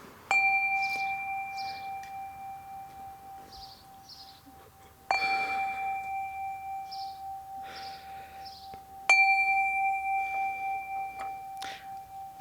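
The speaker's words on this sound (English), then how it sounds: "let us settle our minds and calm our hearts with the ringing of our chime." A chime is struck three times to open a Unitarian Universalist Sunday service, each bright metallic ring sounding loud and clear with a long, slowly pulsing decay, while softer tones and faint birdsong drift in between the strikes.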